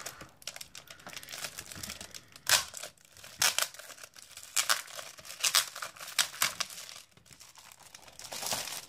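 Packaging from a craft-supply haul is unwrapped, giving soft, irregular crinkles and rustles in scattered bursts, fairly quiet and close, with no talking.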